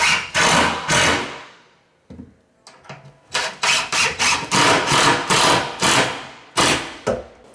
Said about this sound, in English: screw them to the wall.